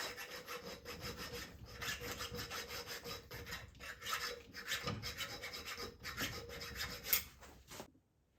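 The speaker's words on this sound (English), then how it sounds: "Good old chainsaw file." Steady rasping strokes of a chainsaw file across a blade, continuous and close, stopping abruptly at the end.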